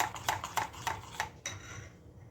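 Rava dosa batter with baking powder and water being mixed in a bowl, a spoon clinking rhythmically against the sides in several quick strokes, then a softer scrape, close and fairly quiet.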